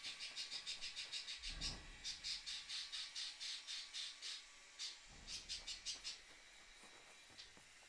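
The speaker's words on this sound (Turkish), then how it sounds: "Kuşun yanına robot gidince kuş ötmeye başladı." A bird in the video game Kingdom Come Deliverance 2 calls in rapid, evenly spaced chirps, a long rhythmic series that pauses briefly and then resumes, clear and fairly close over a quiet background.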